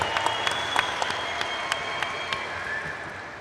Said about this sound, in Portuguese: Esse aplauso merecidíssimo mesmo para a XP